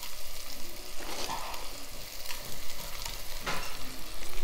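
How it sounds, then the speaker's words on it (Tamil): Mint and coriander leaves sauté in a hot pan for a variety rice dish, giving a steady, close sizzle with occasional louder bursts of stirring and scraping. "புதினாவும் கொத்தமல்லியும் போட்டு நல்லா வதக்கி விட்டுடலாம்"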